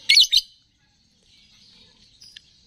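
A pair of sharp, high chirps from a female lovebird, then quiet with faint thin twittering and one more short chirp near the end.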